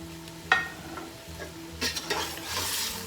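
Chicken pieces are stirred with dry spices in a hot pan, a soft sizzling fry with scraping spoon strokes against the pan and a brief sharp knock near the start, rising in hiss toward the end.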